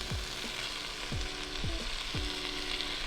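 Zucchini and bell peppers fry in a crowded pan, a constant close hiss and sizzle broken by four regular thuds or taps of a utensil roughly every half second to second, with no voices.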